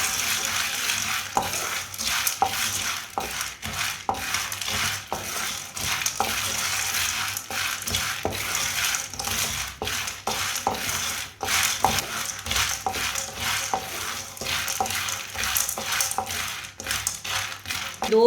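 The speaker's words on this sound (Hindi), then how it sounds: "2 मिनट के लिए मैंने चनों को भून लिया।" Chickpeas roast in a dry pan over low heat on a stove for winter pinni, giving a steady close rustling sizzle with frequent rattling stirs and scrapes throughout, with no voices.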